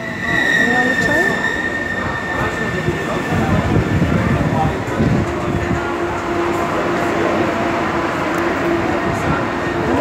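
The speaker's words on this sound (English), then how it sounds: "There's the train." A train arrives and runs through a station in Israel, a loud steady rumble of wheels and carriages with a sustained high squeal and brake tones throughout, close by with some background voices.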